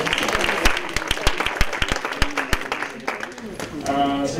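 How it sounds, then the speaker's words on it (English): Scattered audience applause at a housing justice and health equity event, a few distinct claps leading into sparse clapping from a small crowd, with talking mixed in toward the end. "So can we have a round of applause for Brittany."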